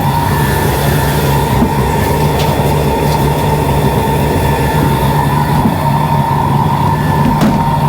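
CNC mill cutting aluminum at 5,000 RPM and 18 inches per minute with coolant flowing, a loud, steady wash of noise carrying a constant high whine throughout, with no talking.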